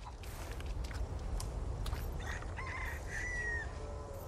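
Chickens in Resident Evil 4 cluck and cackle faintly over a low ambient rumble, with soft footsteps and a drawn-out crowing call near the end.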